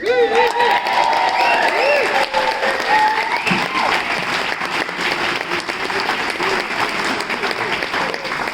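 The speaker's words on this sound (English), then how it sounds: "please, a huge round of applause for our audiences" A theatre audience gives a big round of applause at a leaving speech, opening with voices and cheers, then settling into loud, sustained clapping from a large crowd.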